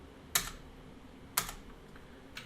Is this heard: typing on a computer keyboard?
yes